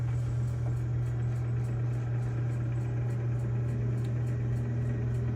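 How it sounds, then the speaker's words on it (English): Construction work outside a building comes through as a constant low droning engine hum, steady and unbroken the whole time, muffled as if from indoors. "I don't know if y'all can hear that they're doing construction outside right now."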